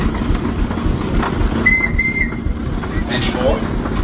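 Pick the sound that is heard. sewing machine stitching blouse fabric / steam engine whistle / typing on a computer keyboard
steam engine whistle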